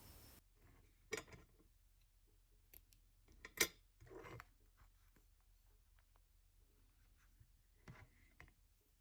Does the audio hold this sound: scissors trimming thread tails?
yes